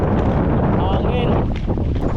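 Heavy wind buffets a microphone outdoors on a Samar Island road trip, a loud continuous low roar and rumble with a voice partly under it.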